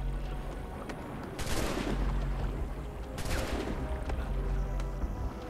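Bursts of gunfire in the Assassin's Creed III game, Tyranny of King Washington episode, two loud broadband volleys over a constant low rumble of battle ambience, with no talk.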